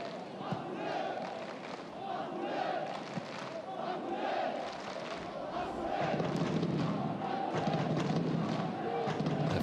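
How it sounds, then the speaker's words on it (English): A stadium crowd at a Spanish football match between SD Amorebieta and Girona FC roars and chants continuously, a dense sustained wall of fan noise with scattered thuds. "fans cheering Azules,"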